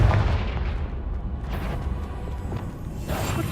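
Confringo blasting spell explosion in the video game Hogwarts Legacy, a loud rumbling boom that rolls on for a few seconds with whooshing debris and fades into a steady roar.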